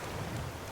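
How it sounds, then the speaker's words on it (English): Heavy rain in the Raft video game hisses as a steady, dense wash of noise heard from underwater, low and muffled, with no voices. "God, it's raining really hard underwater."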